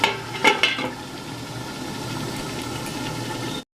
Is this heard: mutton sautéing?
yes